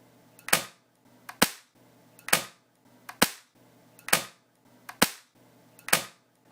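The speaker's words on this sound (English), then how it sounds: "And you can hear there was a significantly reduced echo from that wall. It was less of a pop, more of a thump." Seven evenly spaced shots from a suppressed Daisy BB gun fired near a wall, each a sharp, close thump with a brief decay, separated by quiet pauses under a low hum.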